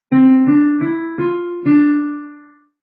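Five short notes struck in sequence, each sustaining briefly, the last ringing out and fading, like a simple piano phrase played alone.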